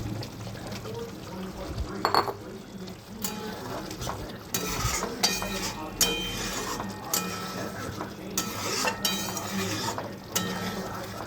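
Country-chicken eggs simmer in a spiced onion, sesame and mustard gravy in a pan, stirred with a spatula: soft bubbling under intermittent clinks and scrapes of the utensil against the pan, heard up close.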